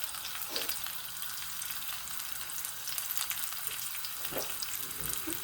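Chopped onion sizzles as it fries in a pan for rasam, giving a steady, soft crackling hiss throughout with a few slightly louder pops, and no one speaking.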